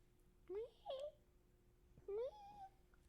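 A human voice imitates a scared cat's meow, two rising-then-falling mewing cries about a second apart, fairly close and clear over a low steady hum.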